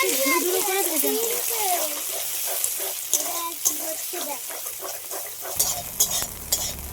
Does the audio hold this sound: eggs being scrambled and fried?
yes